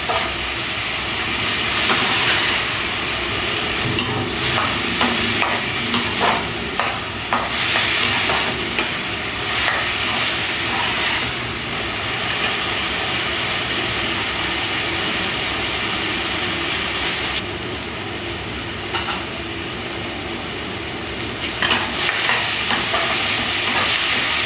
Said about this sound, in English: So we just fry the onions till they sort of turn a little brown